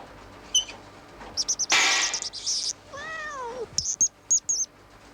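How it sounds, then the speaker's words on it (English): A cat meows loudly and clearly several times, short calls followed by a long rising-and-falling meow, then a few brief mews, with a faint hum behind. "Did I hear a cat meow?"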